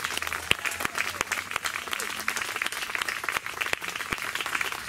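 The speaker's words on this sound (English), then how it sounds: "another round of applause for everyone." A crowd claps at a themed music camp concert, a continuous patter of applause with sharp individual hand claps standing out, fairly close and fairly loud, with no voices.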